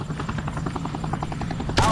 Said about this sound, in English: Chopper support inbound.